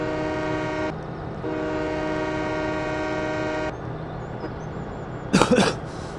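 Train horn in Farming Simulator 17, two long steady blasts, the second much longer, loud and close over a low rumbling engine, followed by a brief clattering burst near the end.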